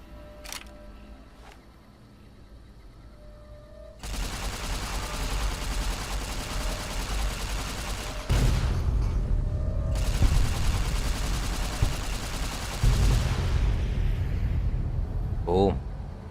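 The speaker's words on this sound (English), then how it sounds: "No one survives the explosions." Warhead explosions in the video game Fallout: New Vegas, in The Divide area: several loud, sustained rumbling blasts roll in one after another, each a dense roar lasting seconds, over a quieter game-ambience start.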